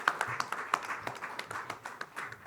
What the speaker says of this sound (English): Let's have a round of applause and welcome him up on stage